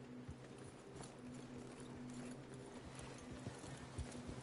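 Horses clip-clop through a Red Dead Redemption 2 scene, with faint, steady hoofbeats under a low ambient drone and occasional thuds.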